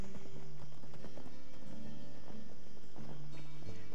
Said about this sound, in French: je vais encore faire peur au cheval